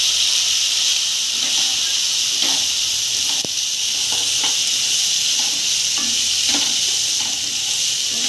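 Chopped onion sizzling in a hot pan, a loud steady hiss with soft scattered taps and stirring scrapes, no talking.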